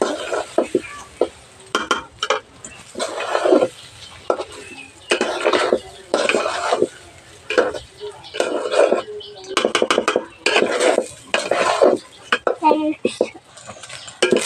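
Broken rice (khud), one kilogram, stir-roasted in a pot, with repeated metal spoon scrapes and clinks against the pot in bursts, close and fairly loud, with brief pauses between strokes.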